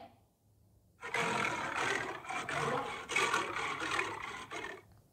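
A lion's roar, probably a teacher's voice imitating it, starts after a second of quiet and holds loud and rough for about four seconds before fading.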